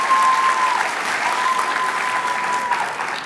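Audience applause at a senior scholarship recognition ceremony, a dense, steady wash of many hands clapping throughout, with a faint sustained tone running beneath it.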